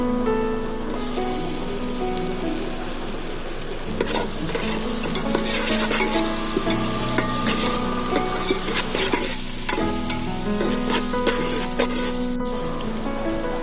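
Sliced onions and tomatoes for chicken biryani sizzle and fry steadily in a pan, a loud continuous crackle with occasional scraping stirs and clinks throughout, no talking.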